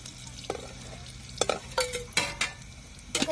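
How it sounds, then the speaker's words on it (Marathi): Mortar-ground garlic and chili paste sautés in oil under a quiet sizzle, broken by a series of sharp spatula scrapes and clanks against the pan at irregular intervals, close up and with no talking. "आपण खलबत्त्यामध्ये लसूण मिरची वाटलेली आपल्याला एक नंबर परतून घ्यायची चांगली"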